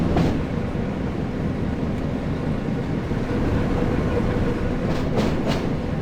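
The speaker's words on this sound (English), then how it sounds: "I love the noises it makes, like little clunks and the way it rocks going over points." A Class 08 shunter runs on the West Coast Main Line between Preston and Carlisle, rocking over points. A steady rolling rumble carries throughout, broken by a few sharp clunks near the start and again toward the end.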